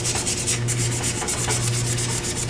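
Sandpaper rubbing a wooden pen blank spinning on a lathe, a steady close hiss of abrasion with a constant motor hum underneath and slight rhythmic pulsing.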